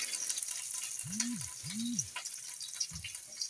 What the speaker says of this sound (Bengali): দেখো বন্ধুরা, লঙ্কাটা ভাজা ভাজা হয়ে গেছে